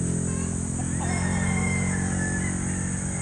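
A Sweetness Gray by Yellow-Legged Hatch gamefowl rooster crows once in a drawn-out call, half buried under a constant wash of rain noise.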